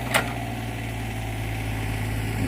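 A Komatsu mini excavator at a rice-field site runs at a steady idle, a close, continuous low engine drone with slight vibration and one brief sharp knock near the start, no voices.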